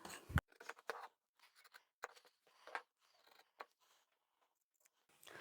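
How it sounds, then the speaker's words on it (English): Scissors snip through vinyl handbag pieces to cut out the marked corners, a series of short crisp close cuts with quiet pauses between them. "I've marked my corners and I'm now going to cut those out."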